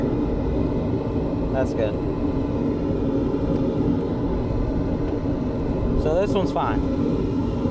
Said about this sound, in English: We know the blower's running.